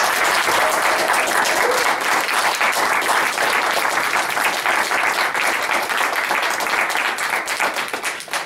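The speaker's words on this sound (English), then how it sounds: "Good applause, by the way." Dense, steady audience applause fills a songwriters cafe, a full room clapping continuously at even strength before easing slightly at the very end.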